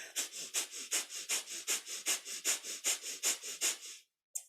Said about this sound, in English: if you're new to breath of fire, it's our panting breath through the belly